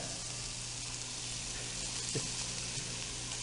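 Shell-on shrimp sizzling on a grill, a steady dense hiss of frying that holds evenly throughout, close and continuous with no talking.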